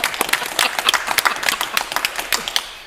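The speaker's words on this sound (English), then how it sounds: "And Vincent, give him a round of applause." A small game show audience applauds the day's winner with brisk, close hand claps that form a lively, uneven patter lasting the whole few seconds and easing off slightly at the end.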